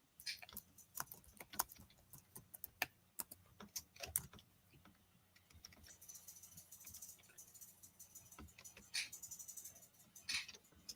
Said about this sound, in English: I'm just gonna type it, Rob.